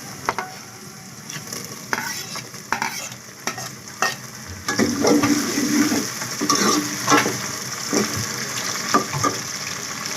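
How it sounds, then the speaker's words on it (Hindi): Tomatoes drop into a pan for chicken with moringa and fry with a steady sizzle while a spoon scrapes and stirs, sharp clinks and scrapes repeating close by, growing louder partway through. "अब इसमें टमाटर डाल देती हूँ।"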